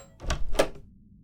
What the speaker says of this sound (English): You can open this door. Just grab the handle.